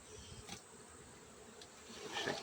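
Bees buzz close around a propane access cover, a steady, dense insect hum that stays level and swells slightly near the end, with no talking.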